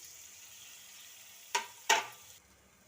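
A spoon scrapes and clacks twice against a pan while boiled potatoes are stirred into fried onion masala, over a faint steady sizzle, with no talking.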